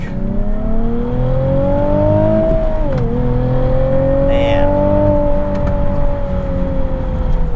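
A Nissan 370Z Nismo accelerates onto a highway, its loud engine note climbing steadily and dipping briefly at a gear change before rising again. Heard from inside the car, with one short spoken word from the driver.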